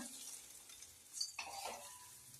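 Onions and chili frying in a pan for Kerala-style pumpkin curry, a quiet sizzle with a brief stir and clatter midway, no voices.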